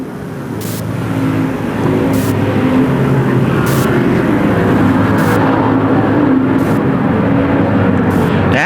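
Modified stock race cars in a ModLite PureStock race at Desert Thunder, a loud, continuous engine roar from the pack lapping the track, with regular pulses as cars pass.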